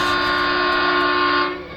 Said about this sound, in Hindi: अचानक ट्रेन की सीटी गूंजी